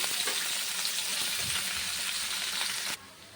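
Chopped onions fry in hot oil in a frying pan, giving a steady, loud, dense sizzle that crackles throughout and then drops off sharply near the end.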